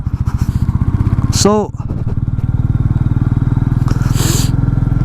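A Royal Enfield Meteor 350 thumps along off road with a loud, rapid single-cylinder pulse, its steady beat interrupted by a brief scraping squeal and clatter; a voice speaks a single word over it.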